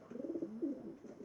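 A Pietrain pigeon coos softly nearby, a couple of low, throaty rolling notes in quick succession over a quiet room background.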